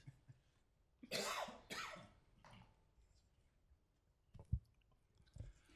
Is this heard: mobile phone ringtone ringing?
no